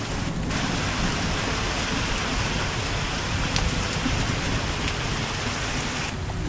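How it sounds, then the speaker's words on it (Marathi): Rain falls on a cotton field in a steady, dense hiss that stays loud and even throughout, with no voices. "थोडा थोडा का होईना पाऊस चालू झालाय।"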